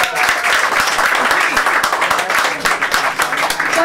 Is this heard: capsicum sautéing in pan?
no